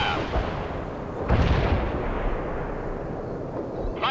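A heavy artillery barrage in the World in Conflict war game, with a loud blast at about 1.3 seconds rumbling into sustained booming fire and another impact at the end.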